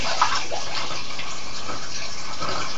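Water pouring into a carboy for cleaning, a steady, close gushing rush of liquid that holds at an even level throughout.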